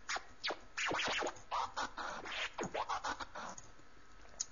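Vinyl record scratching produced with the FL Studio Fruity Scratcher plugin, a quick run of back-and-forth scratches chopped into rhythmic bursts, loud and up front with no talking.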